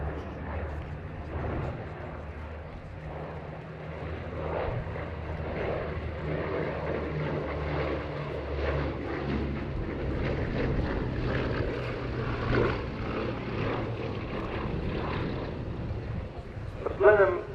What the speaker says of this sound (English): Final pass from the Blenheim.